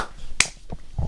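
An off-camera hand dap lands as one sharp, crisp slap, brief and close, amid quiet room noise.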